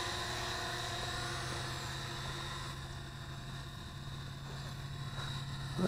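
Folding selfie drone hovering outdoors in wind while holding position, its propellers giving a steady high whir with a buzzing tone, close and continuous, no voices.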